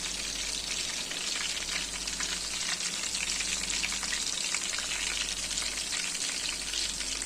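Haryali kababs fry slowly in a little oil over low heat, giving a steady, close, continuous sizzle with fine crackling spatter that holds at an even level throughout, with no talking.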